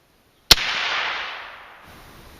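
A single sharp rifle shot from a .450 fitted with a VERS50 sound suppressor, fired outdoors at a 50-yard target, cracks loudly at once and then trails off in a long, fading hiss of echo.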